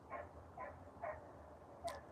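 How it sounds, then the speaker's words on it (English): A dog barks repeatedly in a wildlife area, four short barks spaced about half a second apart. They sound faint and distant over a low background rumble. "someone's got a dog barking like crazy in a wildlife area"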